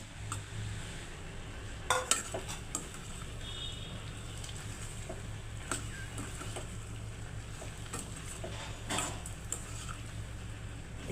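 Fried eggs being stirred into a garlic tempering in a pan for egg pickle, with steady low sizzling and a few sharp utensil scrapes and clinks against the pan throughout.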